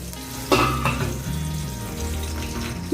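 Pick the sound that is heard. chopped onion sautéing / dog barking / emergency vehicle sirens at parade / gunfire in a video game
chopped onion sautéing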